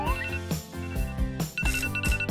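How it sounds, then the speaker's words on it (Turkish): A phone alarm rings with a bright, repeating melodic ringtone pattern, fairly loud and close, cycling through a few short bursts with no talking. "Tamam, şu alarmı kapatayım hele."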